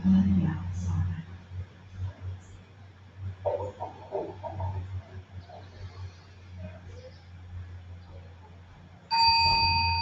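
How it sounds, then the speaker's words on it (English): A bell rung during a meditation session gives a clear, sustained ringing tone near the end. Softer low sounds and quiet movement come before it, and speech-like sounds are heard faintly earlier. "And then ringing the bell for everybody else."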